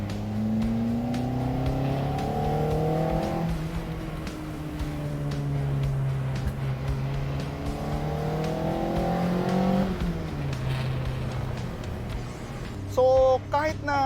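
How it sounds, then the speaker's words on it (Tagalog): The engine of a Toyota AE86 Sprinter Trueno GTV revs up repeatedly with throttle-body intake noise, heard from inside the cabin as climbing rasps between shifts. Someone speaks briefly near the end. "Ang ganda ng tunog ng throttle body nito."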